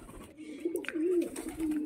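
Pigeons coo in a soft, throaty run of low warbling calls, close by, with a brief flutter of other noise around them while they gather to be fed roti.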